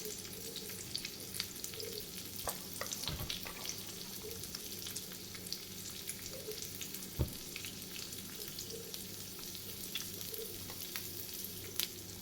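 Chopped onion, green chili and coriander leaves frying in a pan, a soft continuous sizzle with occasional sharp clicks and light stirring scrapes, quiet and close, with no voices.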